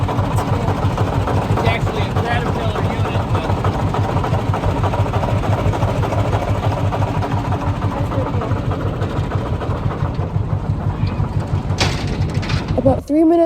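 A 1944 diesel locomotive's original engine idles with a steady, throbbing low rhythmic chug, continuous and fairly loud throughout, with a faint sharp knock near the end.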